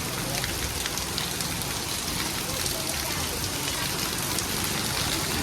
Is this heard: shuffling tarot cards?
no